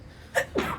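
A single sneeze bursts out in a quiet room: a sharp intake followed by a louder, breathy explosive release, close and brief.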